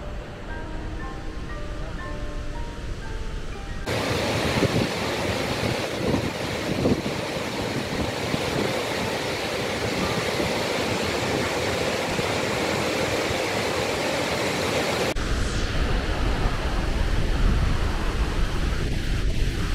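Victoria Falls roars at a 95-metre-deep drop as a continuous loud wash of rushing water, broad and steady throughout with no voices.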